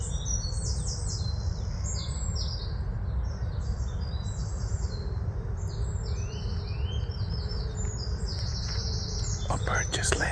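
Small birds chirp and tweet repeatedly in an outdoor spot where they keep landing, bright quick calls in scattered bursts over a steady low background rumble, with faint movement noise near the end.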